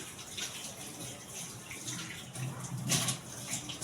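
Tap water runs steadily into a basin while someone washes their hands, a close continuous splashing gush with slight shifts as the hands move under the stream.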